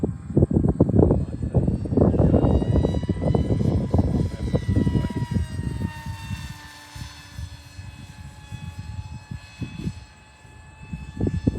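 Avro Vulcan B.2 bomber flying fast overhead, a loud sustained jet roar that swells and sweeps past with a shifting whine, loudest early and tapering later.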